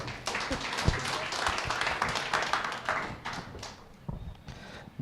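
A church congregation at a New Year's Eve watch night service clapping to welcome Joseph, a moderately loud burst of scattered hand claps from many people that thins out toward the end, with some voices underneath.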